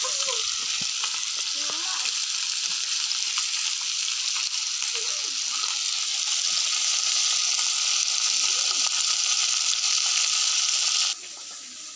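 Fish frying in a pan gives a steady, close, loud sizzle with light sputtering and crackling. It holds constant throughout and drops slightly in level near the end.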